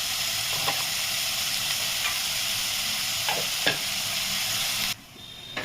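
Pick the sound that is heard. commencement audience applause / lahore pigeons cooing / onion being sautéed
onion being sautéed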